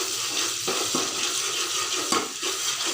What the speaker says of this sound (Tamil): இஞ்சி பூண்டு பேஸ்ட்டு இதை உள்ள தட்டிடலாம். அதை போட்டு கிண்டிக்கலாம்.